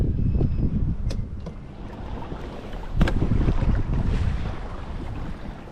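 Strong gusting wind of about twenty miles an hour buffets the microphone on open water during kayak fishing, a dense low roar that swells and eases with the gusts; water lapping can be heard faintly underneath.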